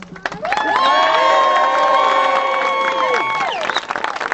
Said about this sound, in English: let's give us all a massive round of applause tonight